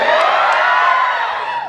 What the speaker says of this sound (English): first years in the house, give me a cheer